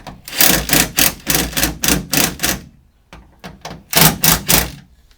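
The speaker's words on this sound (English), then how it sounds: "we're going to tighten them up with the gun" A power gun tightens screws on a door limiter strap bracket of a Sprinter van's rear door: a quick run of about eight short rattling bursts, a brief pause, then three more, loud and close.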